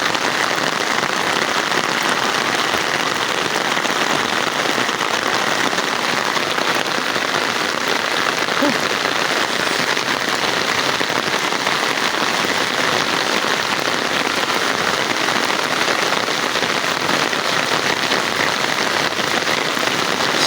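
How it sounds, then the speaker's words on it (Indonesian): Steady morning rain patters on surfaces in a rural Sundanese village in West Java, a dense, even hiss that continues unbroken throughout. "Suara gemericiknya air hujan itu menambah kenyamanan, ketentraman ya"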